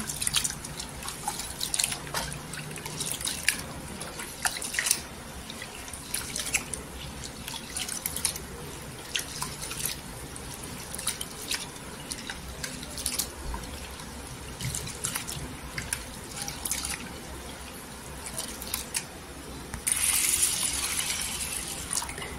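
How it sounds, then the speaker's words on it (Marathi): Washing lentils in water for medu vada in a kitchen sink, with steady close dripping and trickling water, small splashes throughout, and a louder rush of running water near the end. "एक ते 2 पाण्याने स्वच्छ धुवायचे डाळीला"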